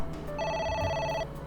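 One clear, close ring of a telephone in the AI: The Somnium Files video game, an electronic warbling tone lasting close to a second against quiet background ambience, with no talking.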